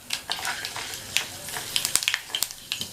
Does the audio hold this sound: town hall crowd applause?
no